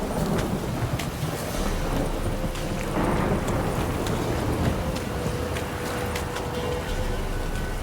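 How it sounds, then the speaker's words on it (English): Constant heavy rain in The Witcher 3 patters and hisses across the whole clip, dense and steady, with a few faint tones and clicks mixed in. "This downpour's a bastard"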